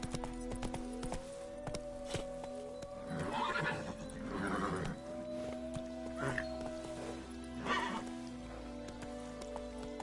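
Roach the horse from The Witcher 3 in a game scene, whinnying and snorting amid hoof clip-clop, with a steady musical drone underneath and faint rain-like texture.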